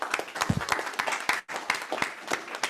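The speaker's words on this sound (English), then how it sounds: "give them a huge round of applause" A live audience at a broker symposium gives a dense round of applause, many hands clapping together close and loud without a break.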